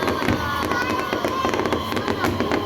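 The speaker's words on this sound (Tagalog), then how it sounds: "Those fireworks!" Fireworks burst continuously at a birthday celebration, a dense barrage of crackling pops and booms filling the whole stretch, loud and close.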